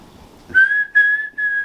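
A person whistles a distinctive three-part tone imitating a sound heard at an abandoned military base: three clear, loud, steady notes, the first and last longer, in a quiet setting.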